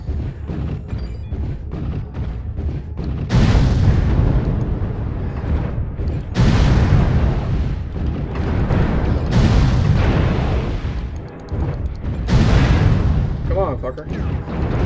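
SRM missile volleys in MechWarrior Online fire and burst in repeated heavy booming waves, loud and close, with a player's voice cutting in between the blasts.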